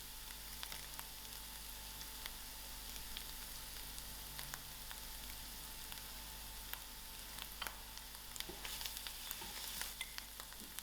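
Chillies and curry leaves sizzle in hot oil, a steady close crackle with scattered sharper pops that grow busier toward the end, no voices.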